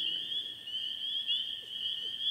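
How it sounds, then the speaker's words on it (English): A dense, continuous chorus of high, shrill spring peeper frogs calling at night in Michigan, steady and unbroken throughout, with a quiet low background beneath. "Those would be spring peepers."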